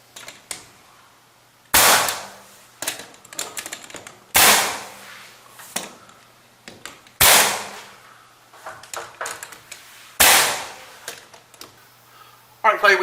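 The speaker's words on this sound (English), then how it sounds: "I'm going to use a bigger nail to nail through the casing and the sheetrock all the way into the framing." A nail gun drives big nails through door casing and sheetrock into framing, five loud sharp bangs spaced a few seconds apart, each followed by light knocks and handling noise.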